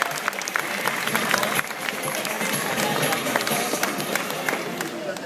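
Audience applause at a Jungle Island animal show in Miami, honoring a king vulture: sustained, dense clapping from a crowd filling the whole stretch, with sharper individual claps popping out of the steady wash.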